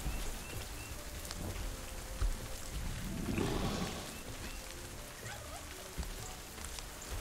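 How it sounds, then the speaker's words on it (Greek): Rain falls in the PixARK video game, a steady hiss of raindrops with a brief swell in the middle, heard alone at moderate loudness. "Α, είναι βροχή ρε εσύ."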